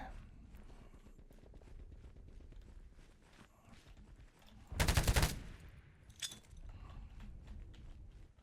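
Rapid gunfire bursts from a free-to-play shooter video game, with a loud, dense volley in the middle and scattered smaller shots and footstep-like clatter around it.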